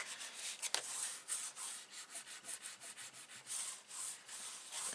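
Paper is burnished along a score line while making a pocket album, giving soft, quick rubbing strokes in an uneven back-and-forth rhythm, close and fairly quiet, with one sharper tap early on.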